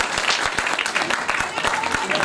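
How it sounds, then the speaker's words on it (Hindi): Audience at a 1965-batch medical college golden jubilee reunion in Agra claps loudly for an organizer, a brisk, dense burst of applause filling the short span. "एक बार जोरदार ताली बीके के लिए जरूर होगा"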